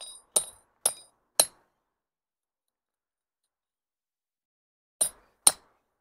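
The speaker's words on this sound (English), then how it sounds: "try to strike with fewer, harder blows, because that deforms the metal less" Sharp metallic hammer blows drive an expansion climbing bolt into rock: three ringing strikes spaced about half a second apart, a long silence, then two more, each clear and close.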